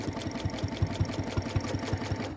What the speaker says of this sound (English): I will start stitching